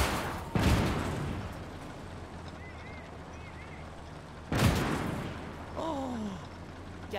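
Tank guns firing in the World War II game Valour during a North Africa mission, two loud booming shots a few seconds apart, each followed by a rumbling decay, with a brief vocal sound after the second shot.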